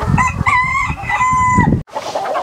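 Chickens on a chicken farm give loud, insistent alarm calls, a steady run of sharp squawking cries close by that breaks off briefly, then resumes with chicks and clucking in the mix.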